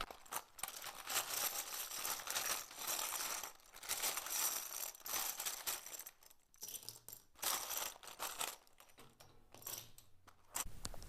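Tarot cards being shuffled by hand, a steady crisp riffling and flicking that runs close and fairly loud with short pauses between bursts.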